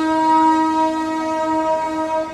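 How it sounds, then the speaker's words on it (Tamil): The horn of the Mangalore weekly special express sounds loud and close as one sustained, steady blast that holds for the whole stretch, with no talk over it. "நம்ம ட்ரெயின் ஹாங்க்கு தான்."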